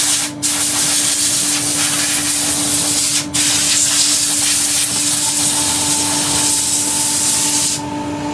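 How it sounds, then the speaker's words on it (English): A steady hiss of spray coats a wooden burr bowl on the lathe to clear away excess oil, running continuously over a low motor hum with two brief dips. "A little bit more of a spray to get rid of the"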